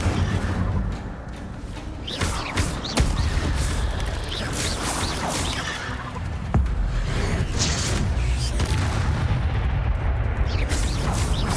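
In the Hogwarts Legacy video game, an Incendio fire spell is cast during combat, giving loud fiery bursts and booming impacts over a dense, continuous rumble of battle noise.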